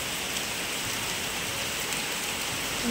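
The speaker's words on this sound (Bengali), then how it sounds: "দেখো প্রচুর বৃষ্টি।" A dense, even roar of heavy rain falls around a village home, constant and close with no pauses or other sounds standing out.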